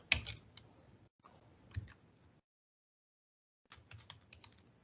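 Keys on a computer keyboard are tapped in short, quiet bursts, a few quick clicks at a time, broken by stretches of near silence.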